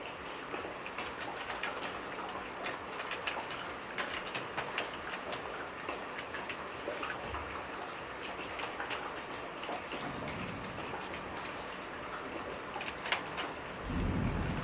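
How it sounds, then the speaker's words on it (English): Water from dishwashing upstairs rushes through the plumbing pipes of an office building, a continuous hissing wash scattered with small ticks and patters like rain, with no one talking. "That is the sound of water flowing through the pipes."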